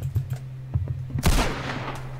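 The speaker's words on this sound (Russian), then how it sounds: "Кто-то там стреляет" Gunfire in the Roblox game Murder: a rapid series of sharp shots with clicking in between, then a louder burst with a noisy tail, heard over a steady low game hum.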